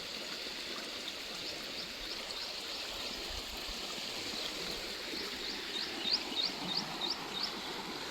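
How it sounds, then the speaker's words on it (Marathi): A small village river flowing past a little bridge after heavy monsoon rain, a steady soft babbling rush of water heard alone at moderate distance, with faint chirps near the end. "इकडं पाणी वाहतंय"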